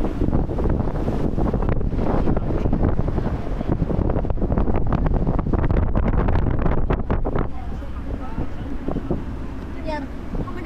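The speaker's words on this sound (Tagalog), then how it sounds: "Today it's windy." Wind blows hard on a river rafting trip on the Ayung River, producing a loud, continuous buffeting roar with splashy water noise that eases slightly near the end.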